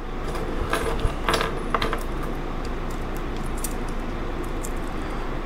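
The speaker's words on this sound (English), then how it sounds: "And as always, you get terminal screws." Small metal battery terminal screws for a 12V Watt Cycle 100Ah mini lithium battery clink and jingle in a bag or hand, a few light metallic taps near the start, then soft rustling handling noise.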